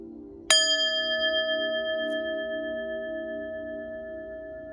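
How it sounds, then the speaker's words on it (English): A single bright strike of a bell rings out clearly, its metallic tone sustaining and slowly fading over several seconds in a quiet room, with no talk over it. "let me ring this bell"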